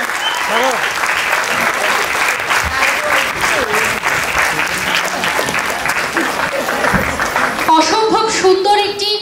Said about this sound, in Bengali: সবাই মিলে একটা জোরে হাততালি হবে আমাদের